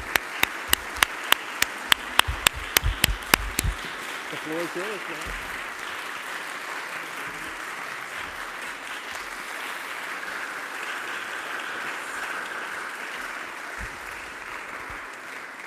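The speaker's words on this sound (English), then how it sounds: "will y'all just join me in giving a huge round of applause for Luis?" A church congregation applauds Luis for several seconds at the start, followed by someone speaking over a steady room murmur and a lingering wash of clapping.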